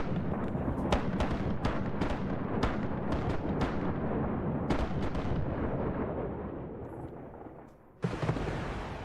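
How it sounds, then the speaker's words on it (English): Ship cannons fire in a naval battle in the pirate video game Rise of Piracy, a rapid series of heavy booming blasts that rumble and fade, then one more loud close shot near the end. "Fire the cannons!"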